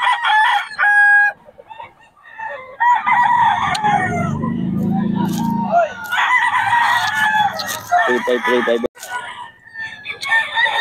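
Roosters crow repeatedly at a busy open-air poultry market in Bocaue, with loud nearby crows mixed with clucking and chatter from people close by.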